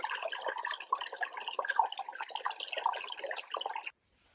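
Water trickles and splashes steadily into a container while it is being filled during a backpacking trip at Lake Ingalls. The sound is close but fairly soft and runs for about four seconds before stopping abruptly. No one talks.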